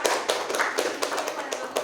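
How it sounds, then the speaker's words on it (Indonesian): A classroom group claps together during a group counselling session, a quick run of sharp, fairly close hand claps that keeps going steadily for a couple of seconds. "Tepuk tangan untuk semua ya"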